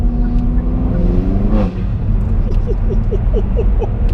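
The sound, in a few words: Hyundai i30N hot hatch engine revving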